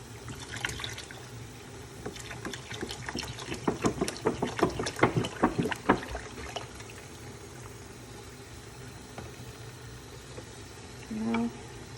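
A whole bottle of milk is poured into a pot of gajar ka halwa (carrot pudding), giving a few seconds of splashing, gurgling liquid that builds and then fades into quiet kitchen background.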